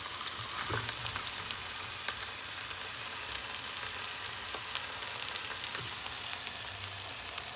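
Steak with a coconut drizzle sizzles in a hot pan, a dense, even frying hiss with small crackles throughout, close and unbroken by speech.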